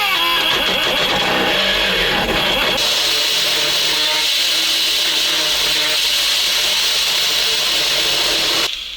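A loud, steady high-pitched whine of a pneumatic die grinder running continuously while a Hanomag 44D loader is being modified, shifting pitch briefly near the start and cutting off at the end.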